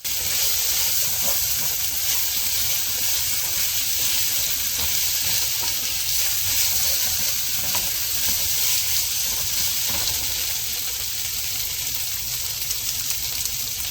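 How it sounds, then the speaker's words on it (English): Short ribs deglazed with red wine in a pan, a loud, steady hiss and bubbling sizzle filling the space close up, with faint scraping along the pan bottom underneath. "I'm going to just go ahead and scrape the bottom of that pan real good"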